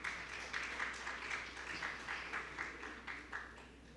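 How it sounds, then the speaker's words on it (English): Sustained applause from a seminar audience at a national-level college zoology and botany event, a steady dense wash of many hands clapping for the full length with gentle swells, no talk over it. "Let us show our appreciation with a huge round of applause"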